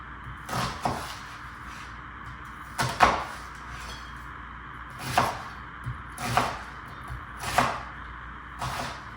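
A knife slices lengthwise strips into a halved red onion on a cutting board, leaving the root end intact. About six crisp, distinct chops land at irregular intervals, close and clear, with no talking.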